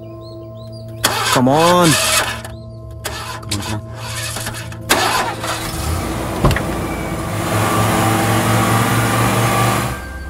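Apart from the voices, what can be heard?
car engine starting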